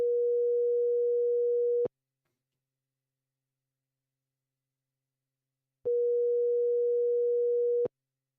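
A phone ringback tone, heard as two steady, loud two-second tone bursts separated by about four seconds of silence, with no other sound around them.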